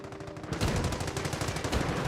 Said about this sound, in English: We're taking infantry fire.